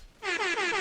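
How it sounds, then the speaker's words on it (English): A loud, bright air horn blast from a sound pad blares for most of the moment in a Dota 2 esports match broadcast at ESL One Birmingham 2024, sustained and steady after a brief quiet start. "With the air horn. I used my sound pad for that."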